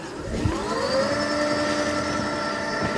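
ZEV electric motorcycle hub motor at about 80 miles an hour on the highway, a steady loud whine with rising tonal pitches over continuous road and wind rush, no voices.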